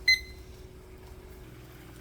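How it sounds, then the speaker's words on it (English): A single short, bright electronic beep from an orange kitchen oven timer sounds right at the start, followed by a quiet room hum and no other sound. "I have my orange timer, which is for my oven"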